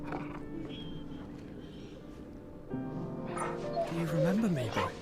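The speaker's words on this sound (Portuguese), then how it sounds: "o cachorro reconheceu" A dog in the video game Final Fantasy XVI gives rising, wavering whimpers and short yips near the end, with game voices talking over it.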